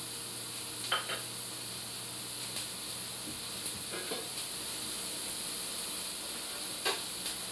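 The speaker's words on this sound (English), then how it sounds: "You want to cook the onions for about 10 minutes or so." Onions are frying in a pan with a constant close hiss and sizzle, broken by a few brief scraping stirs, and no talking.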